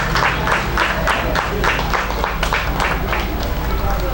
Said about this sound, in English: Please keep clapping as he comes